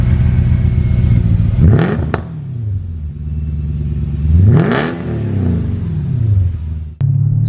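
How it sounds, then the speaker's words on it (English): Mercedes-Benz E550 V8 with a muffler delete, revved hard twice from a loud idle, each rev rising and falling in pitch, up close and alone with no talking. "we woke it up by doing a muffler delete, and this car is so freaking loud"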